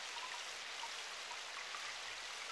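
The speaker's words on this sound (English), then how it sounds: "Outside the barn, the incessant sound of rain could be heard" Steady, incessant rain falling outside a barn in a village in the video game Only You Re Cross, a dense, even hiss of drops with no pauses, fairly faint and alone without voices.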